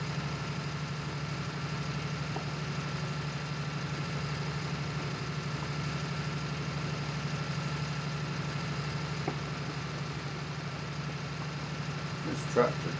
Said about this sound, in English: This tractor does move on pretty well, 8 miles per hour.